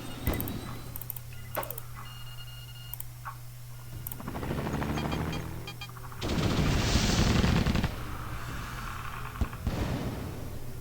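Bursts of rapid gunfire from an attack in the Tom Clancy's EndWar strategy game on Nintendo DS, with a sustained loud volley midway over a steady low game hum and scattered clicks.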